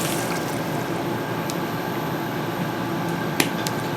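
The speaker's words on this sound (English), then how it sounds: "We're going to add 1 cup of vegetable broth, low sodium" Low-sodium vegetable broth poured into a cooking pot, a soft continuous liquid fill with faint splashes and a couple of small clicks nearby.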